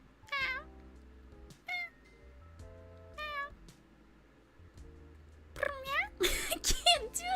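A person imitates a cat, giving several separate meows with gaps between, then a rapid, louder string of meow sounds near the end.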